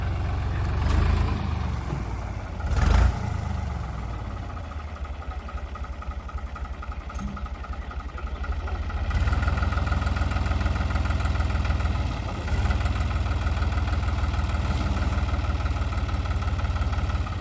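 A heavy machine's engine running on open village land, a continuous close mid-range diesel chug and idle that rises in level partway through, with a few short knocks and clanks.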